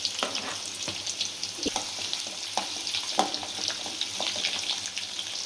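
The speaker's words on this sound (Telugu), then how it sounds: "ఇప్పుడు ఆనియన్స్ వేసేస్తున్నాను" Onions fry in plenty of oil in a pan, a dense crackling sizzle with scattered pops and spoon scrapes, close and steady for several seconds without any voice.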